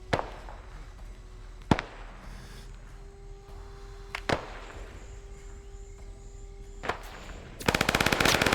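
In the ArmA 3 war game, sharp isolated gunshots crack at intervals over a low hum, then heavy machine gun fire breaks into a loud rapid burst at the end.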